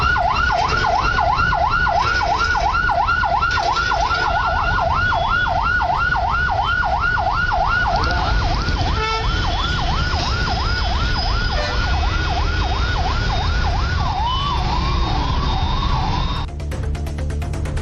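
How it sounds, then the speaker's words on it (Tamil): An ambulance siren stuck in a traffic jam in Tamil Nadu sweeps up and down steadily over a constant rumble of traffic, then shifts to a faster yelp near the end. "ஆம்புலன்ஸ் ஒன்றும் நெரிசலில் சிக்கியது."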